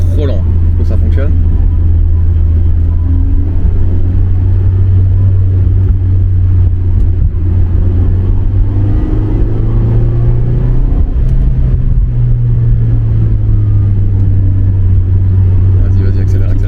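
A stock 1.5-litre Mazda MX-5 ND engine rumbles steadily and loudly throughout during drift practice, its low drone rising slightly in pitch midway as if accelerating.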